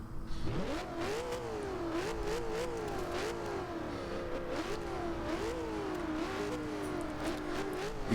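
In Forza Horizon 2, a 2000 Ford Mustang SVT Cobra R's turbocharged engine roars up from near silence, then pulls through repeated gear changes in rising and falling sweeps, loud and steady without voices.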